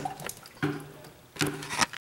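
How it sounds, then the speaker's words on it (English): Water dripping and splashing from a leaking roof inside a shop, two or three distinct close splats spaced about a second apart with quieter trickling between. "it's dripping down in various places"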